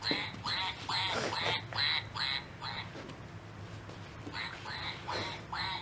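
A squeaky duck dog toy quacks in a run of loud, close squeaks in bursts, with a pause in the middle before more squeaking, over a soft background hum.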